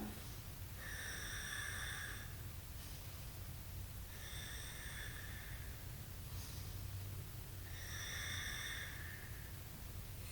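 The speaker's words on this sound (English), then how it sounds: "once you get comfortable breathing through your mouth, close your mouth and have that same breath" Slow, hushed breaths taken with the mouth closed during a pelvic floor breathing exercise, three airy hissing exhales spaced a few seconds apart over a faint background hum.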